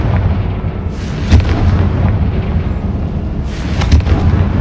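A Confringo blasting spell in Hogwarts Legacy lets off heavy explosive booms over a dense rumbling roar, with two sharp blasts standing out, loud and close.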